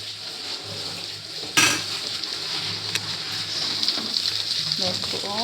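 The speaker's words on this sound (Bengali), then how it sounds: "পেঁয়াজটা ভাজা হচ্ছে।" Onions fry in a pan on a home stove, giving a steady close sizzle with a sharp utensil knock early on and light scraping and clinking throughout.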